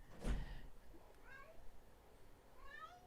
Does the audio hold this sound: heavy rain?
no